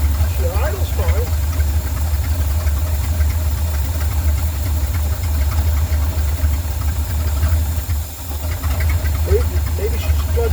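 An engine idles with a steady low rumble and faint hiss as the throttle is eased open slowly, its note barely changing, loud and close with a voice speaking briefly over it.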